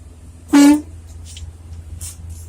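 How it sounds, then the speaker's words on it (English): A single loud truck horn blast, short and sharp, rings out over a low engine rumble at a sand yard in Gonzales, Texas, followed by quieter traffic noise. "Okay, so I just honked."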